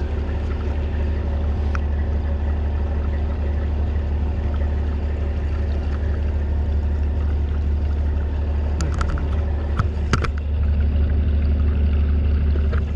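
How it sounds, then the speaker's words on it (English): A pump runs steadily and loudly, a continuous low mechanical drone with a few brief clanks and rattles near the end, heard close while loads are being readied to go out. "Pump running."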